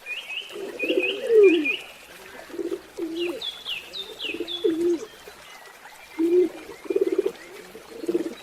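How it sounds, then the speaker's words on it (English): A dove gives a series of soft, low, rounded coos in short repeated phrases, with some higher chirping birdcalls mixed in early on, all fairly close and clear with no talking. "Dove."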